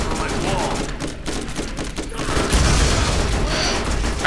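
An explosive Torque gun firing in Borderlands, its booming blasts blending into a dense, continuous barrage of explosions and shots that grows louder in the second half.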